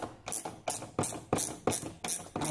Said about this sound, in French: Je vais prendre donc une clé à cliquer avec une rallonge et une douille de 7.